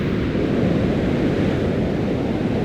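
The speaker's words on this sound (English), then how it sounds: "I've never seen waves so big in my life." Huge ocean waves pound a black sand beach in Iceland in winter, a loud, steady roar of surf and wind that fills the whole clip without pause and with no voices.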